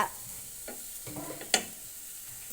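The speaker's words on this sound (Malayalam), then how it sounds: "ഇതിനകത്തേക്ക് നമ്മൾ ലേശം ഉപ്പിട്ടിട്ട് ഒന്നും കൂടി വഴറ്റിയെടുക്കുക." Onions and masala sizzle softly in a pan with a pinch of salt while being sautéed for a beef curry. A few brief stirring scrapes sound over the frying, including one sharper clink near the middle.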